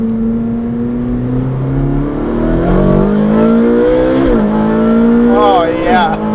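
Ferrari 458 Speciale with a Novitec exhaust in race mode, revving loudly up close with a rising, climbing engine pitch through repeated shifts, ending in sharp high-revving wails.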